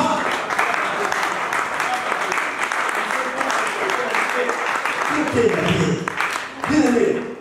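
A church congregation clapping during a sermon, with dense, sustained applause at moderate distance and voices and cheering mixed through it, swelling again near the end.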